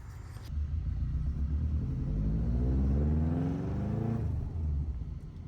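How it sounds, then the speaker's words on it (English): A car with a freshly swapped transmission drives along, its engine rumbling and rising in pitch as it pulls, then easing off, steady and close with no talking. "So here's a like 5-second clip of the car driving after the trans was swapped"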